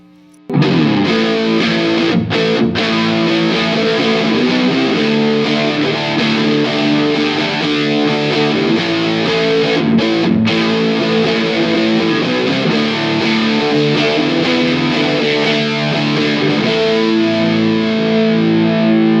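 Electric guitar plays sustained chords through an ENO Music Gemini chorus pedal, a loud, shimmering, slightly distorted tone that rings alone throughout.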